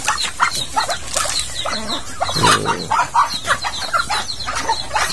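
Chickens cluck and squawk close by in a farmyard among other animals, a busy run of short, overlapping calls with no one talking.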